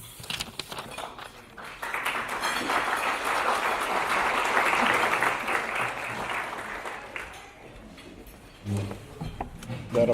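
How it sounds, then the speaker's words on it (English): Audience applause at a CapWealth State of the Union event, a dense wash of clapping swelling from about two seconds and holding steady before fading, with a brief voice near the end. "That applause was more than I deserved."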